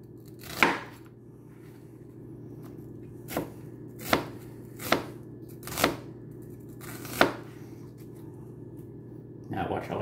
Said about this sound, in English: Now I'm going to chop the onion.